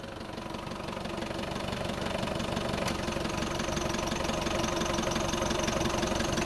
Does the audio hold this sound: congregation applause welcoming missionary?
no